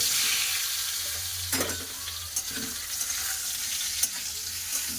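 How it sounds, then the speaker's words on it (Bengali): Boiled taro fries in hot mustard oil in a kadai, giving a continuous close sizzle with occasional knocks and scrapes of a spatula stirring the pieces, no talking. "ভালো করে তেলের উপরে ভেজে নেবো"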